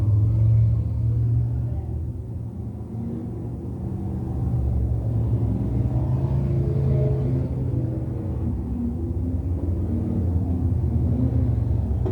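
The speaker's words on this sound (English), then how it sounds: "these drivers just getting the cars up there, the motors up to temperature with these machines" Deep, rumbling 602 crate sprint car engines idling and revving as they warm up to temperature at Can-Am Speedway, a continuous loud roar with occasional rises in pitch.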